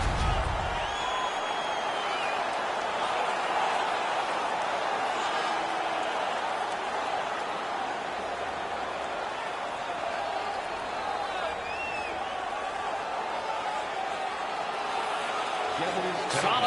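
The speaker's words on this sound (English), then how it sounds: "The crowd is so pumped right now." Simulated hockey arena crowd in the NHL 19 video game roars steadily after a fight, a dense, continuous wall of cheering and noise at constant level throughout.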